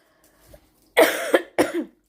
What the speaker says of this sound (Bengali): প্রচণ্ড কাশি হয়েছে আমার ওষুধ খাচ্ছি কিন্তু কমছে না